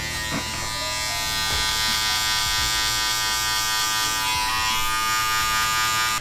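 Electric hair clippers fitted with a 0.5 guard blending hair during a barber's head shave, giving a loud, steady close-up buzz that holds without a break for several seconds.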